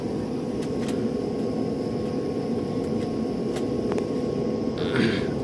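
Steady low roar of an IndiGo airplane cabin in flight on a trip from Bangalore fills the space evenly, with faint clicks and a brief rustle near the end.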